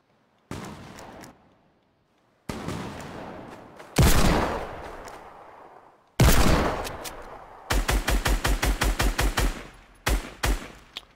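Desert Eagle gunfire in a video game: loud, separate booming shots with echoing tails, then a quick run of rapid, evenly spaced cracks and a final couple of shots.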